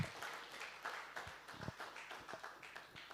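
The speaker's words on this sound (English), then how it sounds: "A round of applause." Faint, thin applause follows a presentation at the IFL Summit, a small scattering of separate claps in an uneven rhythm, sounding distant and quiet rather than a full crowd.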